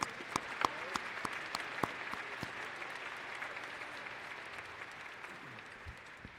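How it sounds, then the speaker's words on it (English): Audience applause at a college commencement ceremony, a steady wash of clapping from a large crowd with a few sharper nearby claps, gradually thinning toward the end. "Give them a round of applause."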